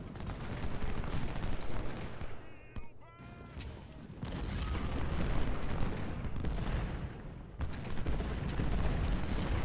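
Ultimate General: Civil War battle gunfire crackles as massed musket volleys and cannon booms, dense and continuous apart from a brief lull early on, and a voice talks faintly underneath.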